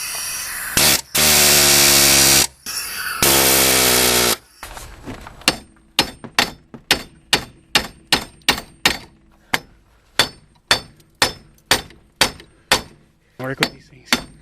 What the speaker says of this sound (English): now I'm going to go get my air chisel because this thing's being stubborn